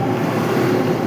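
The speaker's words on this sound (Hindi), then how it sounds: "इतना बहाव पानी का" A swollen mountain stream in flood near Rishikesh, its water rushing in a loud, dense, continuous roar with no break, close by and with no voices.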